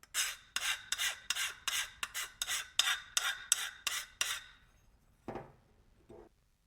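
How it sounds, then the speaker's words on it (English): A hand file strokes across a cut metal edge to remove burrs, giving about a dozen rhythmic, rasping back-and-forth strokes, close and crisp, followed by a pause and a couple of softer scrapes. "Just use a file to clean up the edge"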